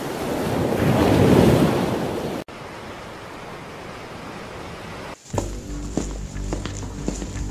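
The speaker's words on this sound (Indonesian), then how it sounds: "Sepertinya badai sudah dimulai." Roaring wind and crashing waves of a storm at sea in a 3D animation, loud and dense for the first couple of seconds, then dropping to a steadier, quieter rush before musical tones come in near the end.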